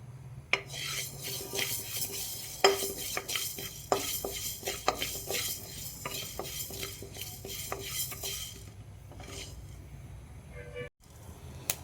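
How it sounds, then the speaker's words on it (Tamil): Fenugreek seeds dry-roast in a hot pan, a spoon stirring and scraping them in quick, uneven clatters and rasps, close and fairly quiet, with a faint sizzle underneath. "நெக்ஸ்ட் நம்மளுக்கு தேவையான அளவு வெந்தயம் போட்டுக்கலாம். அதை நல்லா கொஞ்சம் நேரம் ஹீட் பண்ணிக்கலாம்."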